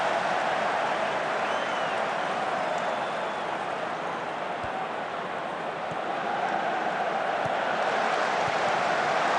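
A broad, sustained wash of crowd applause and cheering in the football video game Football Manager 2024 runs steadily throughout, with no distinct voices standing out.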